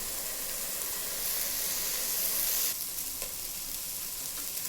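Steady, bright sizzling of dry fruits frying in hot ghee, a continuous crackling hiss close by that dips slightly partway through.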